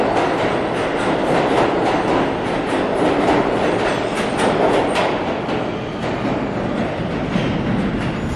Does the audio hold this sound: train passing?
yes